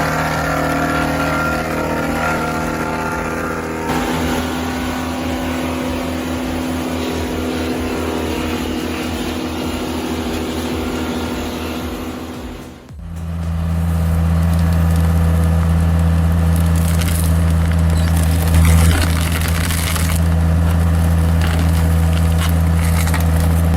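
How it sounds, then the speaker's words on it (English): Roadside wood chipper chewing through branches and feeding a dump truck, a loud steady mechanical roar with woody grinding that briefly dips, then returns as a heavier, deeper drone. "This roadside chipper doesn't bark, it bites."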